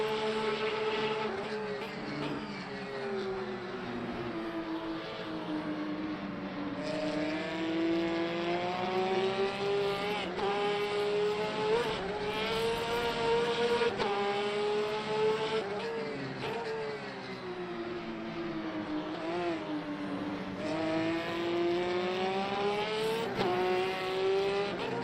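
Hypercar racing engines in Le Mans Ultimate drone loudly and steadily throughout, with pitch rising and falling through gear changes and continuous high-revving whine, no voices present.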